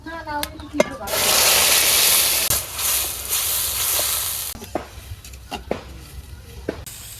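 Blended spice paste dropped into hot oil in a wok for a vegetable curry bursts into a loud hissing sizzle, then settles under a few sharp stirring clicks and scrapes.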